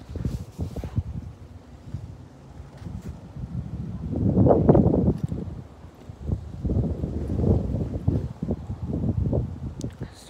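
Gusty wind buffets the microphone in uneven surges, with low rumbling bursts swelling louder around the middle and again near the end.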